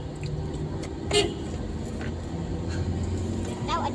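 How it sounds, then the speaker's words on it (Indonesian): A car horn sounds once briefly amid a steady roadside vehicle rumble, with people talking nearby. "Klakson, Pak."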